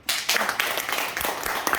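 Audience applause at a talk on body-care techniques, a dense broadband patter of many hands clapping steadily for about two seconds, fairly loud and close, with no voices on top.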